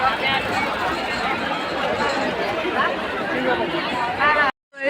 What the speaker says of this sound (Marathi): उत्सवाला खूप सारी गर्दी झाली आहे